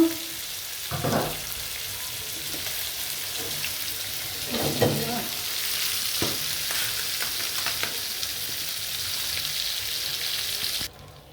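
Fish frying in a pan, a continuous close sizzle broken by a few stirring scrapes and clatters, running steadily and cutting off abruptly at the end.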